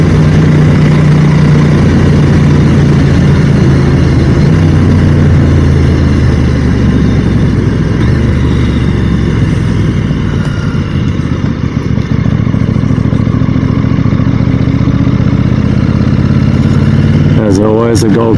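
A motorcycle rides along a Gold Coast road on an Easter Monday morning, its engine a steady, loud, low drone with rushing wind for the whole stretch, and a brief voice near the end.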